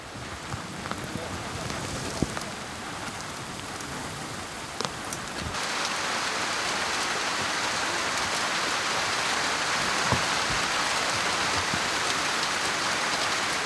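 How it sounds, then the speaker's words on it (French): Steady rain pours down, a dense hiss of drops on surfaces that thickens midway, with occasional louder drips close by. "On l'attendait depuis tellement longtemps, cette pluie, que c'est quand même une bénédiction."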